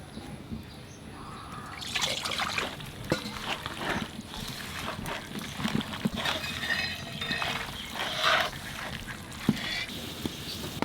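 Mustard oil poured into a cooking pot for a Bengali dal and chicken dish, a soft liquid trickle and dribble with light clinks and rustles around it, moderately close and without speech.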